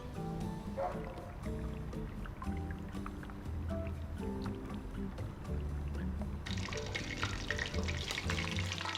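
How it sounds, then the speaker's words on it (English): Steady sizzling and crackling of chicken frying in hot oil, continuous and fairly close, with music playing in the background. "Now, put them into the frying oil and fry them for 7 minutes."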